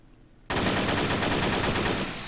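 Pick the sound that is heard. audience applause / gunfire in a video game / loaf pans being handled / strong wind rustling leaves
gunfire in a video game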